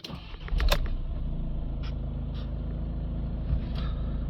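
A VW Amarok 2.0 engine settles into a steady, even idle right after starting, a continuous low rumble held throughout, with a few brief clicks and knocks near the start and no talking.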